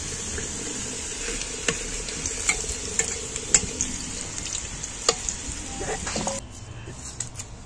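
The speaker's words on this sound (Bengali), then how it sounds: "আলুগুলো আমার ভাজা হয়ে গেছে, আলুগুলো আমি তুলে নিচ্ছি।" Potato pieces fry in hot oil while cooking mutton, a steady crackling sizzle with sharp spatula clicks and scrapes as they are lifted out one by one; the sizzle drops away near the end.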